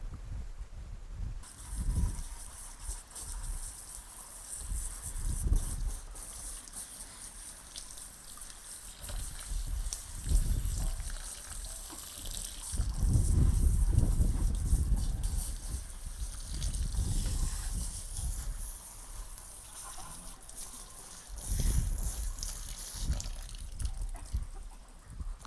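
Water splashing and trickling as a septic tank effluent filter is rinsed off over the first compartment, with uneven gushes and a fuller surge partway through against outdoor wind.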